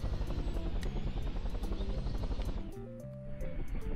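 A helicopter flies in a video game, its steady loud rotor chop and engine buzz filling the whole stretch, dipping briefly before returning at full strength, with no talk over it.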